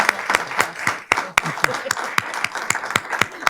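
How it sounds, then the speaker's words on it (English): Audience applause for the panelists at a land stewardship event, steady clapping from a modest crowd with sharp individual claps standing out, continuous for the whole stretch. "Could you all give them a round of applause, please?"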